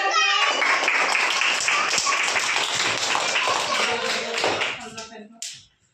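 Participants at a Birsa Munda Jayanti celebration clap together in sustained, fairly loud applause that fades out near the end, followed by a brief voice.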